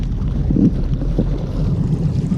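A fishing boat moves across a lake in the wind while out after lake trout near Milwaukee, giving a steady low rumble with gusty buffeting noise, close and continuous throughout.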